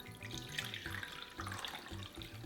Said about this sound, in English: In a bowl, add the water